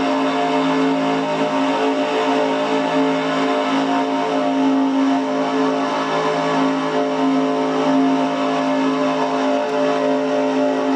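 A steady, loud race car engine drone holds at high RPM in the NASCAR Racing 2003 game during an IROC race at Daytona, a sustained tonal whine with no breaks and no talk.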